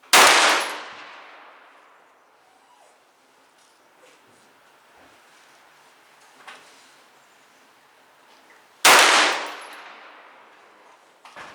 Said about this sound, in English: Okay, first 5 shots.